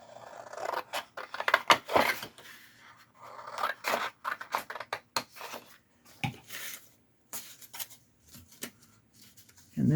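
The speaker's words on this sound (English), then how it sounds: "instead of trying to match up corners, I might just cut it straight." Scissors snip repeatedly through paper or thin craft material while a straight line is cut for a homemade Christmas ornament built from dollar-store supplies, giving close, irregular bursts of crisp cutting with short pauses between them.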